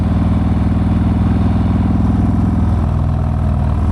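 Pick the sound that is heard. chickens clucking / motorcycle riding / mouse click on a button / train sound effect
motorcycle riding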